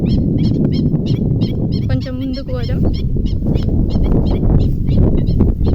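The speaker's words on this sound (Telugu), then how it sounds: "ఆ పక్షుల సౌండ్ చూడండి ఎట్లా వస్తుందో" Birds honk repeatedly, goose-like, at a large village pond in open fields. Loud close calls come in quick succession throughout, with someone speaking briefly over them partway through.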